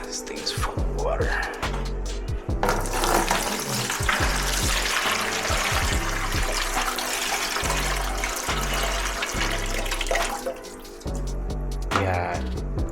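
Water pours steadily out of a full aquarium breeder box, a continuous splashing gush with a few brief dips, while people talk over it throughout.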